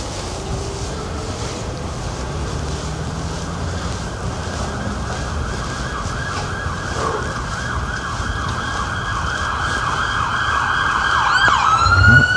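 A police car siren wails on a street in Freehold, New Jersey, its steady rising and falling tone growing louder as the vehicle approaches over road noise.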